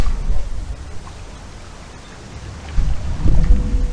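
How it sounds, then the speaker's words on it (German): Strong wind blows at Achensee lake in Tyrol, a steady low rumbling buffet on the microphone that swells louder near the start and again toward the end, with no talking. "was aber hier ist, ist ziemlich windig"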